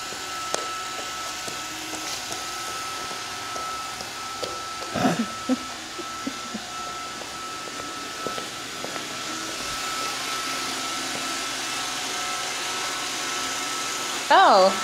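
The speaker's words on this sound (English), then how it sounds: "Sometimes the Roomba comes, right to him." A Roomba robot vacuum cleaner hums steadily at moderate volume throughout, with a few faint knocks and bumps, and a brief voice-like sound near the end.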